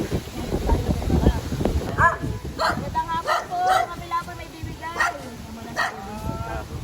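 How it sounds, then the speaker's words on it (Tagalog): A dog barks and yips several times in short bursts, mid-distance, while people talk and laugh over the top. "may aso"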